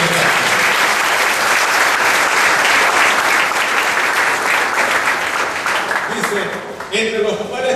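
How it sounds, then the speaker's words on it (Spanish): Congregation applauding in a Spanish-language church service, loud continuous clapping that thins out toward the end as a voice comes in. "Aplaudan al Señor."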